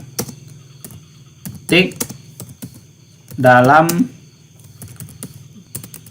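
Keystrokes on a computer keyboard while typing a document in Microsoft Word: a steady scatter of close, crisp clicks and taps, with a few brief bursts of speech in between.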